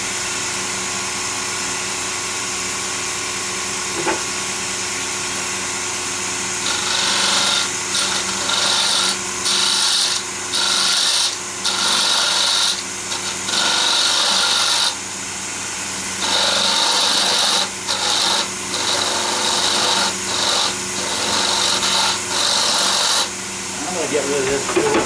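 Wood lathe spinning at 3,000 RPM while a gouge turns a wooden finial, a steady motor whine under bursts of harsh scraping and cutting hiss that stop and start, with someone talking at the start.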